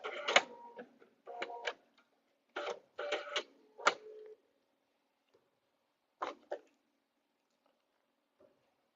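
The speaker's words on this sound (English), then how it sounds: "Go past that, back stitch a couple, and then I can cut my threads." A sewing machine stitches a quilt, running in several short, quick bursts with pauses between, ending in a couple of brief back stitches, close and fairly loud with no talking.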